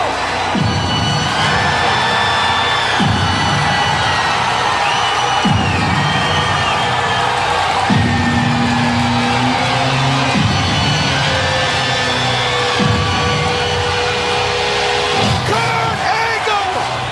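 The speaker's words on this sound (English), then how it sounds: "Kurt Angle in TNA and his debut arrives. The crowd going crazy." A wrestling crowd roars loudly and continuously at Kurt Angle's TNA debut, with rhythmic surges of cheering and whooping building over a dense arena din while an excited announcer talks over it.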